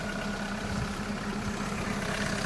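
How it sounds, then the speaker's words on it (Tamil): A car engine idles steadily nearby, a low, even hum with a faint rhythmic throb and no other sounds. "இன்ஜின் நாய்ஸ் எப்படி இருக்குது பாருங்களேன்."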